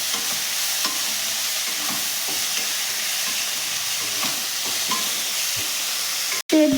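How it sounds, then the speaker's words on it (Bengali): Drumstick flowers sizzle and fry in a pan as they are stirred, a steady hiss with scattered scraping taps, ending in a brief louder clatter. "দিয়ে এই সজনে ফুলটাও দিয়ে দিলাম। ভালো করে মেশাবো।"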